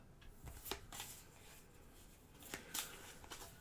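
A deck of event cards for the board game Stars of Akarios is shuffled close by, with soft riffling and several sharp snapping flicks, quiet and alone with no talking.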